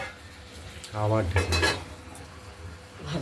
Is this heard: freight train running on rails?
no